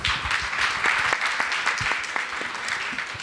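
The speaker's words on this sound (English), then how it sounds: "let's welcome her with a big round of applause" An audience at a cybersecurity forum session claps to welcome the chairperson, a dense, even patter of applause from a moderately sized crowd that carries on without a break.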